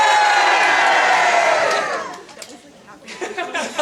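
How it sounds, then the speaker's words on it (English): A convention panel audience cheers "yay" together on cue, a loud burst of many voices that holds for about two seconds and then fades into scattered chatter and a few whoops. "this one you're just all gonna cheer"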